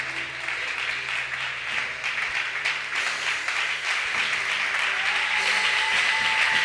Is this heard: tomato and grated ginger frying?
no